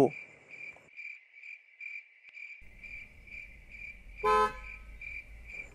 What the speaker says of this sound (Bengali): বাঁশির হর্নের আওয়াজ পেয়ে যেন মনটা শান্ত হলো